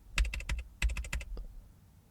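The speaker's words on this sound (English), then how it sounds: "How about we type a wrong OTP?" Keys clatter on a computer keyboard as a wrong one-time passcode is typed in, two quick bursts of soft, close clicks followed by a single lighter tap, with no talking.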